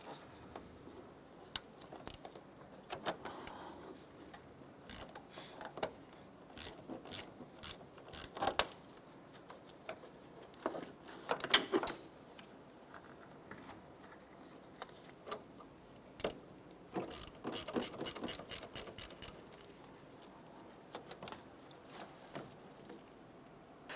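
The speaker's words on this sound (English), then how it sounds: "10mm socket and ratchet, we're going to go ahead and loosen and remove our battery terminals" A 10mm socket and ratchet loosens the battery terminals on a 2006–2013 Chevrolet Impala, giving quiet, close clicking ratchet bursts in short irregular runs with pauses between them.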